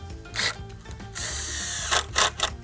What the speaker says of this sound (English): I'm just going to throw a 3-inch screw on each end in a toenail situation